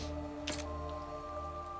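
Rain in the video game The Hundred Line: steady, soft patter of raindrops over a low ambient tone with faint sustained musical hum, one brief splashy drip near the start, no talking.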